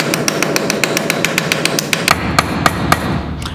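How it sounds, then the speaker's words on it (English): Rapid, regular metallic taps of a ball peen hammer striking a rivet, close and sharp, about five hits per second with a few heavier blows near the end. "Using a ball peen hammer, I'm going to hit around the outside of the rivet"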